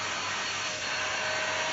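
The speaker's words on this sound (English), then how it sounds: "His first time using a hoover," A hoover vacuum cleaner runs continuously, a loud steady motor whine and airflow roar, close by and unbroken, pushed by a seven-year-old child.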